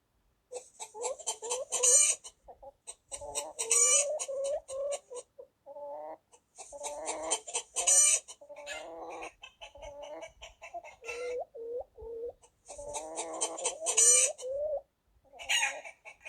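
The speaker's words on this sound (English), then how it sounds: "let us also try for rooster crowing" A rooster crows again and again, its loud, drawn-out calls coming in bursts with chicken clucking and squawks in between, close by.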